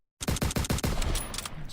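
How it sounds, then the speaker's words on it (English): A burst of inserted gunfire sound effect: about six rapid, evenly spaced loud shots in quick succession, then a ringing, noisy tail fading out. "that's where we insert a gunshot"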